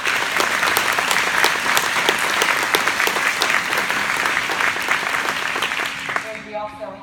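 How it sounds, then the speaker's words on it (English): A large crowd applauds veterans at a political party gathering, dense clapping filling the room at a steady level before it starts to thin out near the end. "just give our veterans a round of applause"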